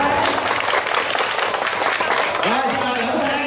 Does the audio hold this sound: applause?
yes